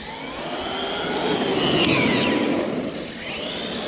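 A Traxxas X-Maxx 8S RC truck with a Max6 ESC drives past with a loud, continuous high electric whine that rises and then falls away as it brakes hard, with no voices.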